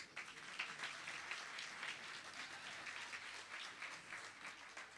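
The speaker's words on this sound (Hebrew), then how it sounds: "ולכן טוב שאתם מקבלים אותה במחיאות כפיים" An audience in a hall gives sustained applause at a Chabad Hasidic evening of songs, steady, fairly soft clapping from a crowd.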